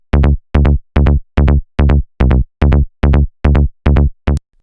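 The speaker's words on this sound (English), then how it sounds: "First sound we're diving into is this bass, which is kind of like an offbeat saw bass with some heavy OTT multiband" Offbeat saw bass synth patch built in Serum with heavy OTT multiband compression, playing eleven short, evenly spaced, loud stabs with a bright, buzzy, fat tone and clean gaps between hits, heard alone, trance and hard house style.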